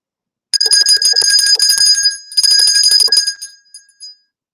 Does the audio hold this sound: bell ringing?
yes